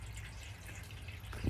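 Water pouring out of a pond over a small dam, pulled along by the flow coming down a hill: a steady, low rushing wash held at an even level, rising slightly near the end.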